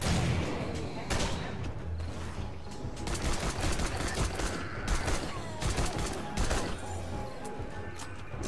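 Chaotic, sustained gunfire in a zombie horde shooter, with overlapping shots and heavier blasts mixed into a dense battle din and a voice faintly present underneath.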